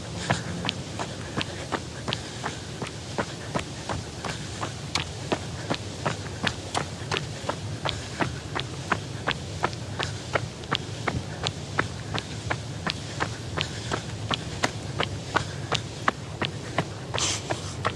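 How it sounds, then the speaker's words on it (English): A runner's footsteps pound out a fast, steady rhythm close by, continuing throughout over a soft outdoor background of air and leaves, with no talking. "I heard my footsteps."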